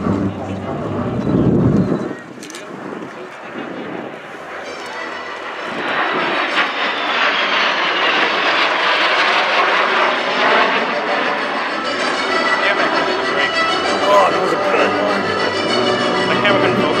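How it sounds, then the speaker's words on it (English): A T-33 Shooting Star, a straight-winged subsonic jet, flies in at the Wings Over Solano Air Show 2024. Its engine roar swells from moderate to loud and sustained, with wind noise and an announcer talking over it. "Inbound to start this full demonstration of the T-33 shooting star"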